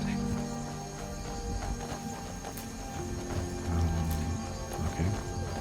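A horse in the video game Skyrim gallops with a continuous clatter of hooves, heard under a busy game soundscape while people talk.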